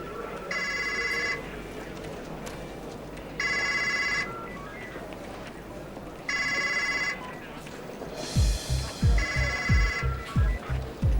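A mobile phone ringtone sounds in four evenly spaced electronic bursts, fairly loud, while low rumbling and shuffling continue underneath; near the end the final ring overlaps heavier low thumps.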